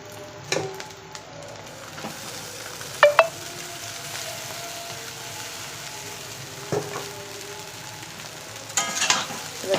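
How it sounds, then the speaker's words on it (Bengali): Boiled chowmein fries in a pan with egg and onion, a soft continuous sizzle punctuated by several sharp scrapes and clinks of a utensil stirring against the pan. "এখন এই চাউমিনটা আমি ডিম আর পেঁয়াজ ভাজার মধ্যে দিয়ে দেবো"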